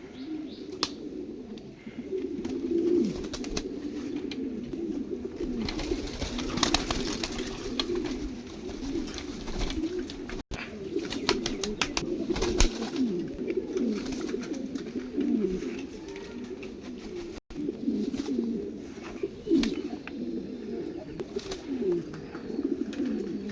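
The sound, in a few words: king pigeons released, cooing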